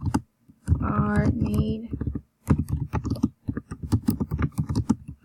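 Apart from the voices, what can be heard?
computer keyboard typing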